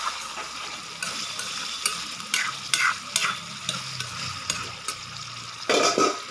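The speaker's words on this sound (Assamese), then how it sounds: "লাইপাতখিনি দিছোঁ, দি পেলাই এতিয়া অলপ থকাই দিম।" Mustard greens are stirred and fried in a pan. A soft sizzle runs underneath, broken by repeated scraping and clattering stirring strokes, with a louder burst of stirring near the end, all heard up close.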